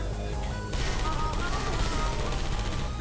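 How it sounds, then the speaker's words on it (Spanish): Dense, continuous automatic gunfire from turrets in the game Portal 2 rattles loudly throughout, with a sharper burst kicking in partway. "¡Oigo disparos!"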